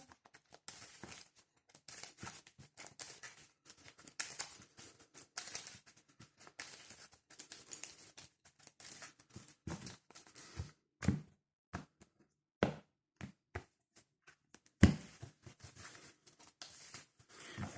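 Yu-Gi-Oh trading cards shuffled by hand in a Tri-Brigade Lyrilusc deck, quiet close riffles and papery flicks in irregular bursts, with sharper slaps of the deck and short pauses between.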